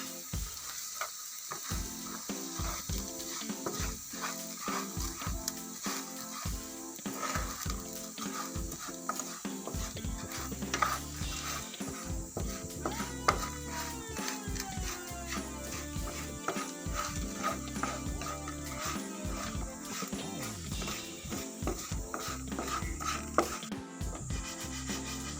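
Soy beans fry and get stirred in a pan, a steady sizzle running throughout with frequent scraping and clattering as they are tossed, moderately close and free of talk.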